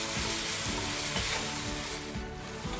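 Spices and coriander sauté in hot oil for mutton biryani, giving a steady, loud, close sizzle with a spoon stirring rhythmically through the pan. No one speaks.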